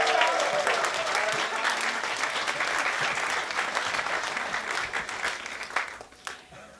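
Audience at a Sunday music session applauding a performer, a broad wash of clapping that holds steady, then thins and fades out toward the end.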